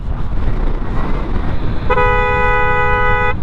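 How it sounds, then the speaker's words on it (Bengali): A car horn blares in a sustained honk over loud road and engine rumble, starting partway through and holding steady to the end. "এই হর্নটা মারার কারণ"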